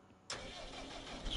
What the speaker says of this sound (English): Sure, let's bring the new tractor home.